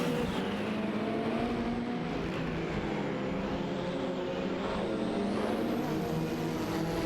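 Ferrari F40 Competition and Porsche 961 LM race cars in a racing video game, a loud continuous blend of several engines droning and revving together, pitch rising and falling without a break and no voices.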